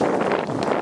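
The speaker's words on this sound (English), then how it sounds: "The wind got the best of us. It's still windy." Rough, broadband winter wind buffeting a microphone during snow cleanup, steady and loud throughout with low rumbling gusts and no clear voices.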